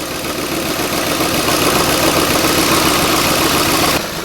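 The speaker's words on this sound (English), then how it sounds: "just got a slight miss" A Ford F-150 pickup with a 4.6 V8 idles steadily and loudly up close, its continuous rumble carrying a slightly uneven, rough beat from a small misfire, with no talk over it.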